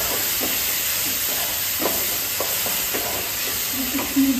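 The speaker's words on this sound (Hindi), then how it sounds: "और अब मैं डालूँगी ये टमाटर, ये दोनों को डाल दिया।" Tomatoes added to sizzling spices, chilli powder, salt and ginger-garlic paste in a pan, a steady hissing sizzle with occasional soft scrapes and small thuds, close and continuous.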